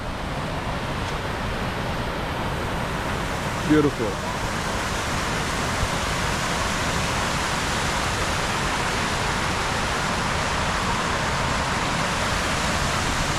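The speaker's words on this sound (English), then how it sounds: "The water fountain, beautiful." A water fountain near 1251 Avenue of the Americas at Rockefeller Center, New York City, splashes as a loud, continuous rushing wash, close and steady throughout, with a brief spoken word partway in.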